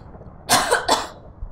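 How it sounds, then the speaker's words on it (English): Two sharp coughs close together, loud and close against a faint low background hum, followed by a soft thump. "Coughing hurts."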